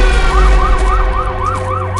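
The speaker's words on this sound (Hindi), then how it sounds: "और तभी सायरन की आवाज गूंजी।" A loud, close police siren wails in quick rising-and-falling sweeps over a low, steady engine rumble.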